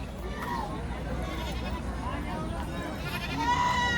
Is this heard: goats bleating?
yes